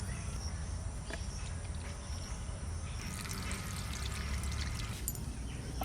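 Water is poured into a dish of panta bhat, fermented rice, as a steady soft trickle that grows brighter midway, heard close against a continuous low background hum.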